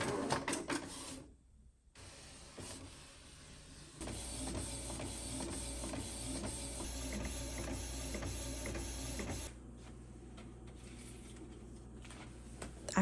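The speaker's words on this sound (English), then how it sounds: "Then you can go ahead and print sheet 1." An inkjet printer feeds and prints a sheet for a custom bookmark, with whirring carriage passes, clicks and mechanical rattles, a brief pause, then a steady motorized run before the paper ejects.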